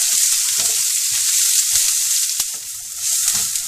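Onions fry in a pan until soft, a loud, close, continuous hiss of sizzling oil with a few brief stirring taps and no talking.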